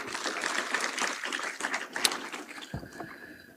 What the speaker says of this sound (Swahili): Makofi kwa waziri wetu.